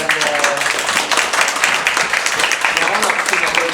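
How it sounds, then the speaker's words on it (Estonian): An audience applauds at a master's program info session, with steady clapping from many hands throughout and voices mixed in underneath. "Võiksime neile ju aplausi teha."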